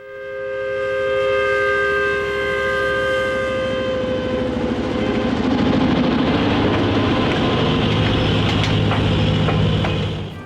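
A vintage EMD F7A diesel locomotive rumbles steadily pulling a train as a long, loud multi-tone air horn blares for several seconds, then engine and rolling noise continue with clattering.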